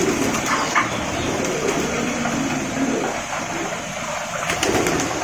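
Pigeons at a large loft in Munshiganj, near Dhaka, coo steadily while others lift off one after another, a continuous dense chorus of soft calls with faint wing flutters mixed in.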